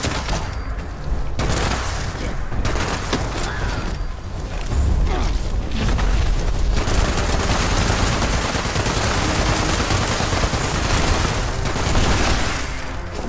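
A Fallout two-shot explosive .50 cal machine gun fires in long sustained bursts, loud and dense with overlapping explosive booms, continuous with no voices.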